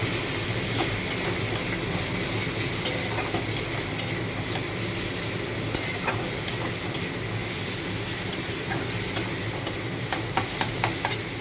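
Low, steady sizzling of spices and tomato sautéing in a pan for katla fish curry, with a series of sharp clicks and taps of a spatula stirring, quiet and continuous.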